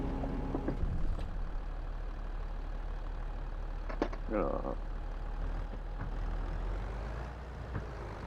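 Tractor engine running steadily at low idle while it is maneuvered and turned around during tree clearing on a homestead, a constant rumble with a few clanks and a brief squeal.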